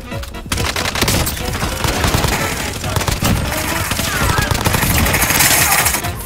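Dense automatic gunfire from Call of Duty Warzone, loud and continuous rapid bursts of shots layered together across the whole stretch, with voices faintly mixed underneath.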